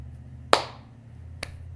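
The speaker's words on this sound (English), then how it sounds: "clap in front of your face" A single sharp hand clap made in front of a face to sync sound with picture, loud and close with a short room decay, followed about a second later by a fainter tap.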